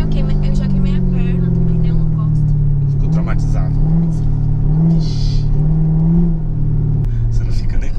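An old motorcycle engine idles with a loud, close rumble, then revs in several short rhythmic surges. A voice speaks over it.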